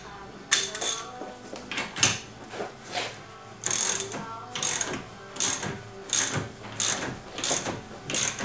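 A socket ratchet being turned while working on the front suspension of a TVR Griffith, close rhythmic clicking strokes repeating steadily with short pauses between pulls, no talking.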